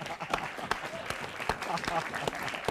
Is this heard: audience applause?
yes